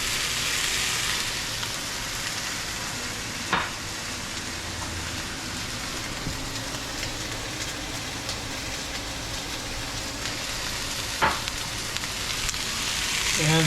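Vegetables for chicken mole char in a frying pan with a steady, dense sizzle and crackle that holds evenly throughout, broken by a couple of sharper pops.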